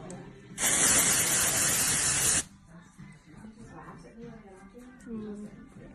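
Gray root concealer bursts from an aerosol can onto hair in one loud hiss lasting about two seconds, followed by quieter voices talking nearby.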